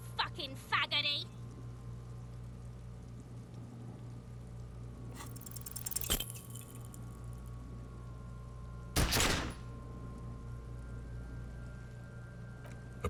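A pistol fires in the video game Disco Elysium: a sharp crack, then a heavier burst a few seconds later, over a low steady hum and faint ambient game sound.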